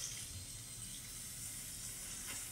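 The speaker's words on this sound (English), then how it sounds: "I have to turn the water on." Water from an outdoor tap feeding a backyard waterslide rushes and hisses steadily, a continuous broadband wash at moderate level with no talking.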